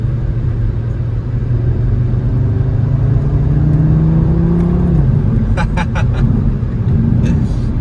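An Audi R8 V10 Plus Spyder's engine rumbles loudly and steadily while driving, its pitch rising as it revs up, then dropping sharply before settling again, with a few short bursts near the end.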